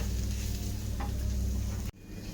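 Masala spices sizzle in a pan as they are stirred for a Kerala-style pepper chicken parts dish, a steady close frying hiss that cuts off abruptly near the end.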